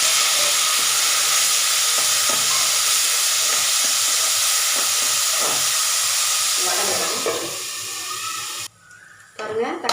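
Onions, curry leaves and tomatoes sauté in a pan for a bottle gourd curry, giving a loud, continuous steamy hiss close by that thins and drops off near the end.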